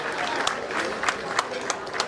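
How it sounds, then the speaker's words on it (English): Audience applause at a celebration for Dr. Awa Ibraheem, a steady patter of clapping with a few sharper claps standing out, moderately loud and continuous under a lively crowd. "Give him a resounding round of applause."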